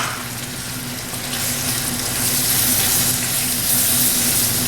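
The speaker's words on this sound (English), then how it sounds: "I'm going to add some garlic, about a tablespoon and a half of just minced crushed garlic." About a tablespoon and a half of minced crushed garlic sizzling in a pan over medium heat for shrimp and grits, a loud, even hiss that swells slightly partway through, close up with no voices.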